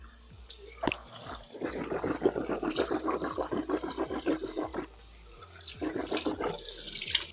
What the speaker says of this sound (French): L'idée maintenant c'est de se rincer abondamment la bouche.